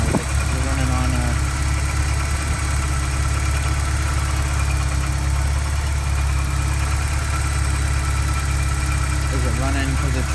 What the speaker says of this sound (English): I don't get how the car is still kind of just running.